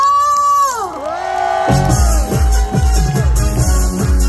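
A crowd at a trot singer's live concert cheers, whoops and claps loudly, the noise starting after a sliding tone and continuing with rhythmic low thumps from the music underneath.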